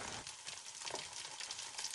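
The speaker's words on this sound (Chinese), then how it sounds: "锅中留下底油，倒入切好的小青椒，再倒入油渣爆炒" Small green chillies and pork cracklings stir-fry in a wok, producing a faint, dense sizzle that stays even over a brief moment, with no speech.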